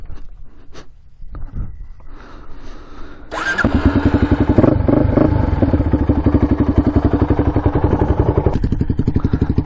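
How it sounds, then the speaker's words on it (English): A motorcycle engine, on a good battery, cranks over: quiet clatter and thumps at first, then a loud, steady, rapidly pulsing churn that carries on to the end. "Let's see if it cranks over here."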